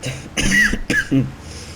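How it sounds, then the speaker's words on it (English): A few harsh coughs close by, in two or three bursts, with brief gaps between them. "I got a bit of a cough, just so people know that."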